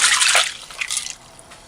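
Dirty soaking water from peas for a Jamaican stew poured out of a pot: a close, splashy gush that thins into a brief trickle and drips, with no talk.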